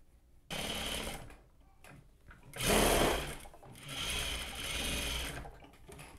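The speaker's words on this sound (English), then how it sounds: "you sew it half of an inch. You do the same thing for the other side." Sewing machine stitching a corset seam, running in steady bursts with a brief louder surge in the middle, close and clear with no talk.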